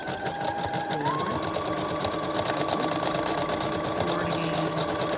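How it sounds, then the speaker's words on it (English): Sewing machine running steadily through a zigzag stitch on elastic for a tube top, a loud continuous motor whir with a shift in pitch about a second in, close and uninterrupted. "And then I just use zigzag stitching."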